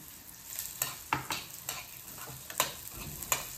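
Chana dal and urad dal stir-fry in a pan as a spatula scrapes through them, giving soft irregular scrapes and taps over a steady close frying hiss, with no speech.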